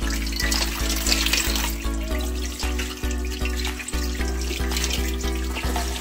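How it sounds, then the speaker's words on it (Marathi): Fresh pomfret is rinsed under running tap water in a home kitchen, with a steady, continuous splashing stream over a faint rhythmic background throughout. "स्वच्छ पाण्याखाली धुवून घेतो।"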